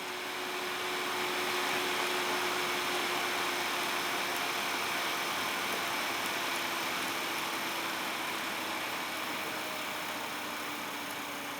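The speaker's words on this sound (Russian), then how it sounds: "Вот даже можно услышать, как вентиляторы снижают обороты." Steady whirring of the cooling fans in a DPS-2000BB 2000 W server power supply, with a faint tonal hum, a continuous mechanical drone that eases slightly as the fans slow, with no voices.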